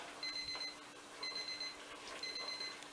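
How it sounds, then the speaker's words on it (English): A kitchen alarm timer, set for bacon baking in the oven, rings in three short bursts of rapid high beeping, fairly quiet, with pauses between bursts and no talk. "Oh, that's my alarm"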